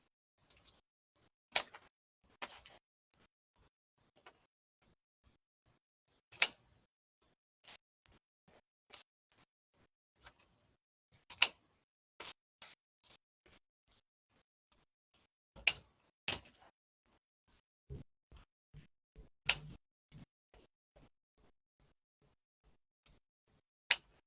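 Scissors snip out paper pieces for a gingerbread Christmas wreath craft: sparse, quiet clicking cuts come in irregular clusters, close by, with no talking.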